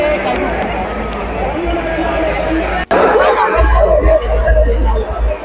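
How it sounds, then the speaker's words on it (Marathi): A large crowd gathered at a village event chatters in a steady, loud babble, with a brief cut midway and a low rumble joining afterwards. "आणि किती गर्दी जमली पूर्ण"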